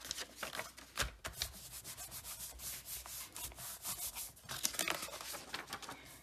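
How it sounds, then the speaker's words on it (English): Paper rubbing and crinkling at close range as a paper die cut is glued onto a handmade card, with steady scratchy friction strokes and brief rustles, fairly quiet and without talk. "Okay, now we're going to glue the die cut on here."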